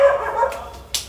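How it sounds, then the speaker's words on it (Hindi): A dog gives one short, loud bark close by, with a fainter sound following a moment later, in a home where cooking is under way. "ये कुत्ता जब भी मेरी कोई वीडियो बननी होती है ना ये जरूर भौंकता"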